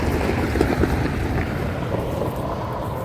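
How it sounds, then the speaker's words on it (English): A vehicle driving past heard as a steady low rumble over heavy wind noise, with no distinct peak as it goes by. "Oh, someone driving by."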